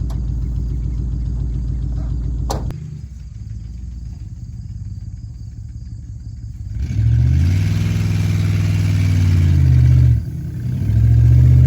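Vintage pickup truck engine used to haul hay bales idles with a low rumble, then revs up loudly as the truck pulls away, eases briefly and accelerates again, running steady and close with no talk.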